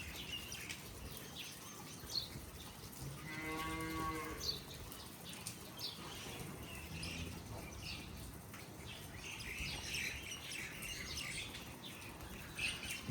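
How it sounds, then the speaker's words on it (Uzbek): Cattle in a farm pen give a single drawn-out moo in the middle, set against faint bird chirps and steady outdoor background noise. "Mollar zagonda yuribdi."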